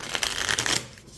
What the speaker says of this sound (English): I really enjoy shuffling this overhand as well because it doesn't stick